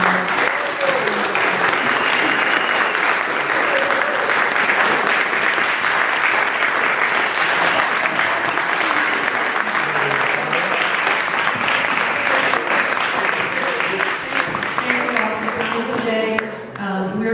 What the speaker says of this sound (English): Could we give our candidates a round of applause?